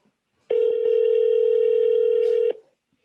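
A single steady telephone tone sounds loud and close for about two seconds, then cuts off cleanly and leaves silence on either side.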